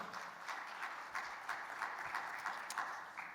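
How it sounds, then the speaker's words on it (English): Scattered audience applause follows a business presentation, a modest group clapping unevenly with soft individual claps standing out, fairly distant and steady for a few seconds. "Big round of applause for Jean-Michel on this awesome presentation"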